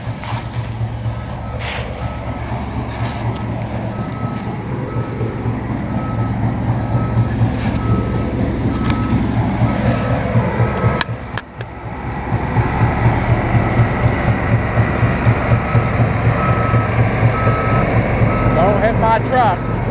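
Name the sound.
truck reversing with backup beeps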